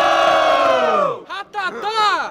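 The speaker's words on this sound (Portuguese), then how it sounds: "Quem gostou das rimas de Ratatá faz muito barulho" A crowd at a student rap battle in Guarulhos roars and shouts together, a loud sustained cheer that breaks into rhythmic whoops and chanting bursts.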